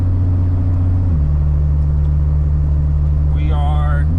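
A car cruising down the I-95 highway in Florida, a loud, steady close engine and road rumble that holds level throughout, with a short electronic chime near the end.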